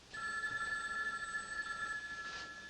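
An old-style telephone bell rings with a sustained trilling tone in a quiet indoor room, moderately faint and unbroken for nearly the whole stretch before fading slightly at the end, with no voices over it.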